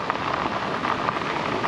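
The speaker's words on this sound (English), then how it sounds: "Oh, I hear thunder." Steady rain patters on surfaces outdoors at a bikepacking campsite, a continuous even hiss of drops with no clear thunder rumble.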